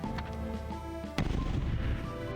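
A frag grenade explodes in the roguelike deckbuilder video game Becoming Captain, a sudden sharp blast midway that breaks over a steady tonal game backdrop and leaves a rumbling, crackling tail.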